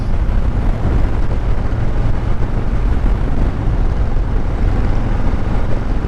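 Harley-Davidson Dyna Street Bob FXDB motorcycle cruising on the road, a constant low engine rumble buried under heavy wind buffeting across the microphone, no voices.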